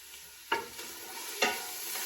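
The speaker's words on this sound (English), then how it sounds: "I'm just going to tip my onions straight in. I'm going to let those cook for just a couple of minutes" Onions fry with a soft, steady sizzle in a pan, broken by two scraping stirs about a second apart, close and quiet, with no talking.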